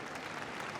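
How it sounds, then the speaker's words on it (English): A crowd clapping politely and discreetly for the Queen as she leaves Westminster Hall, a brief, even patter of many hands at a steady moderate level. "There was this very polite, very discreet clapping"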